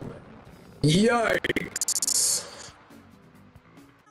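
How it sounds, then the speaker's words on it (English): A cartoonish explosion from a meme video bursts in loudly after a short pause, with a sweeping whoosh and crackling bursts lasting about two seconds before fading into quieter noise; a voice exclaims briefly over it. "What an explosion."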